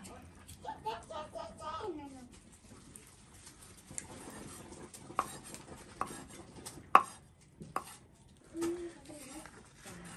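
A knife slices boiled food on a board in a run of crisp, irregular chops and taps, close and fairly quiet, with some voice sounds at the start.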